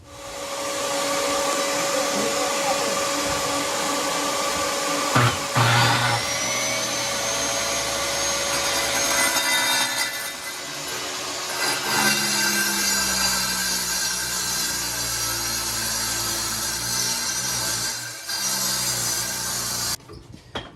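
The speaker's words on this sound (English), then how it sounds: "So I took my angle grinder and just kind of ground out both the little sides, tried to get as close as I could." An angle grinder grinds out the narrow side corners of a cabinet during a farmhouse sink installation, giving a loud, continuous high-pitched whine for about twenty seconds. The motor pitch shifts and dips briefly before the tool cuts off at the end.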